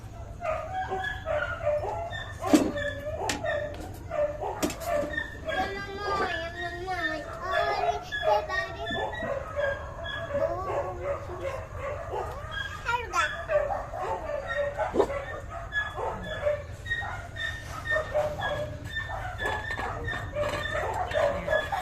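A commotion of about 30 dogs barking and yipping at once as they are fed outside a house, busy and overlapping, with voices and other activity mixed in close by.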